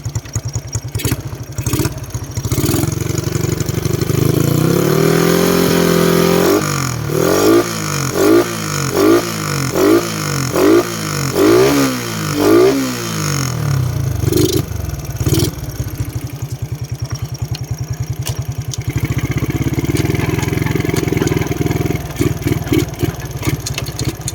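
Honda Wave 125 S motorcycle with a freshly rebuilt engine starting and idling close up, then revved in a rapid series of about eight short bursts before settling back to a steady idle.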